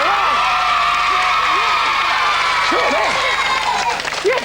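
A 1991 television quiz-show studio audience cheers and applauds, loud and close, with whoops and clapping layered over music while a host's voice cuts in briefly.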